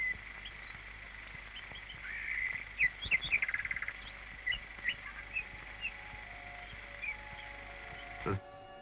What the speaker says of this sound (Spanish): El ruiseñor alegraba con su voz